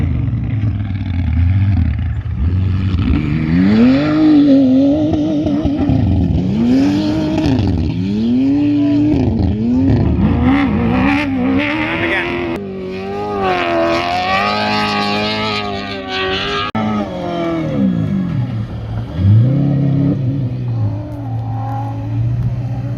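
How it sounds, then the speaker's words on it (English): Cars pass on a road near a renovation site, engines swelling and falling with rising and falling whines as vehicles go by in succession, loud and continuous. "Still other cars coming past."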